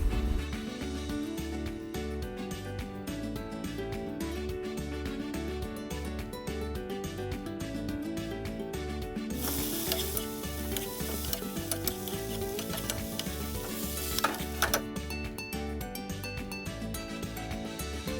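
Garlic and chopped mushrooms cook in a pan, giving a steady close sizzle with rhythmic stirring clatter and a brief louder hiss partway through, no voices.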